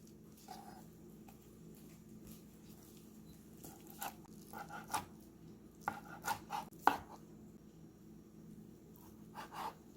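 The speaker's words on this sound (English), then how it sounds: "Now you want to thinly slice both eggs." A knife thinly slices boiled eggs on a board, giving a run of soft, quick taps and light chops, close but quiet over faint room hiss, with the strokes bunching together toward the end; nobody speaks.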